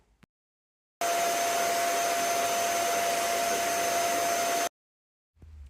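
A Vax SpotWash Max carpet cleaner runs loudly and steadily for about four seconds, a constant motor roar with a high whine, starting and stopping abruptly with near silence on either side.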